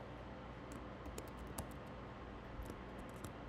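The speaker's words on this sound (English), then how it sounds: "I'm typing in sold now" Rapid typing on a computer keyboard while listing silver and gold items for auction, with scattered light key clicks over a steady background hiss.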